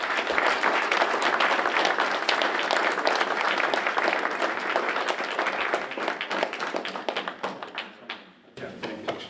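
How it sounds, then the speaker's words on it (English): An audience at the Believe Bowl 2021 event gives a dense, sustained round of applause with many hands clapping together, thinning out and dipping briefly near the end. "Let's give him a round of applause."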